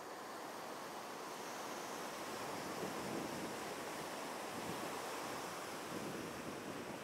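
Ocean surf rolling onto Ipanema beach in Rio de Janeiro, a continuous broad wash of breaking waves with soft wind, steady and moderately distant, no voices.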